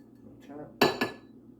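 A butter-coated ramekin is tapped on a kitchen counter: two sharp, close knocks about a fifth of a second apart with a ceramic ring, after a soft rustle.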